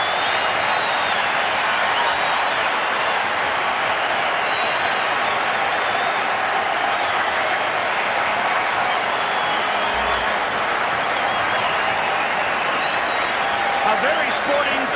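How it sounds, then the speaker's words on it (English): Rugby crowd at Eden Park applauding a try during the 1995 New Zealand v Canada match, a broad, sustained wash of clapping across the stadium with a commentator talking over it. "A very sporting crowd at Eden Park applauds loud and long for that try by Christian Stewart."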